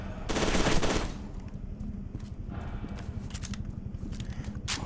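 Gunfire in the shooter game F.E.A.R. 2 opens with a loud, dense burst, then trails into a rapid, rattling stream of smaller shots that keeps going steadily to the end.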